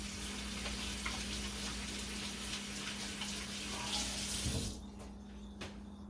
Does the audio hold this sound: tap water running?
yes